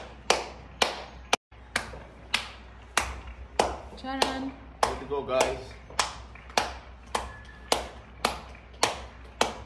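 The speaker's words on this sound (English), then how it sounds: "everybody in their balconies clapping" One person clapping from a balcony in India during the Janatha Curfew for COVID-19: sharp, evenly spaced handclaps, about a dozen in steady rhythm, with brief talk breaking in midway.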